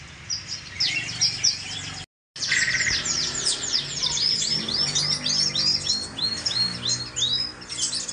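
A white-rumped shama (murai) sings a long, varied run of bright whistles, trills and rapid chirps, close and loud, with a brief gap of silence partway through and a low background rumble underneath.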